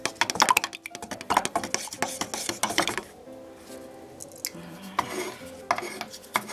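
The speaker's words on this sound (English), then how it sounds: "it just says to give it a good stir and not shake it" A stick or utensil clinking and scraping inside a can of chalk paint sealer, busy rhythmic knocks at first, then softer stirring with faint background sounds, close by.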